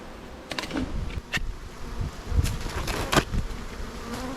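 Honey bees buzz around an open hive, a low hum under scattered sharp clicks and knocks from frames being handled nearby.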